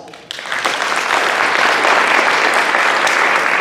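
A crowd bursts into applause after a brief quiet moment, the clapping quickly swelling into a loud, dense, steady roar that holds to the end.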